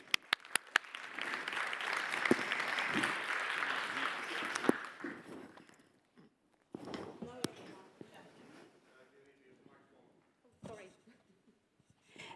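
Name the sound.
audience applause welcoming a speaker on stage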